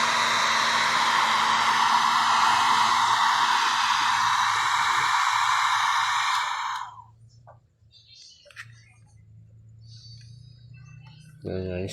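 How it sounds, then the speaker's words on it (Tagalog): Handheld heat blower drying freshly applied decal stickers on a motorcycle, a loud steady roar for about seven seconds that cuts off, then quiet rustling and a short burst as it restarts at the end. "Blower natin na po."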